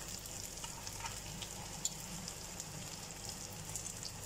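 Bottle gourd (lauki) shami kebabs fry quietly in a pan over low heat, giving a faint, steady sizzle with occasional soft pops and no voices.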